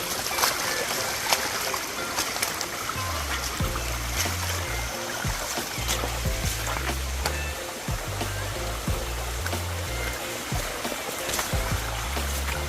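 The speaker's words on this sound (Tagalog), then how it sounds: "May malakas yung tubig ngayon." Strong water rushes steadily close by in the rain near a cornfield, a loud continuous flow with occasional splashes and faint voices in the background.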